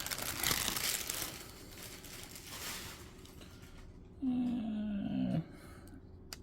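Plastic wrapping is pulled and crinkled off an Emilia anime figure, rustling through the first few seconds, followed by a brief louder rubbing squeak near the end.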